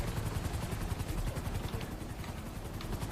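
A helicopter in a GTA roleplay game flies continuously with a dense rotor chop and engine roar, moderately loud and steady, with no talk.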